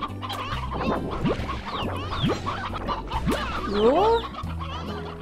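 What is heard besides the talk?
chickens clucking in video game Slime Rancher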